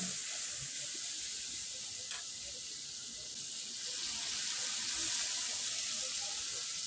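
Water pours and hisses steadily as a spice grinder jar is rinsed into a pan of spices, a continuous faint stream with a brief clink partway through.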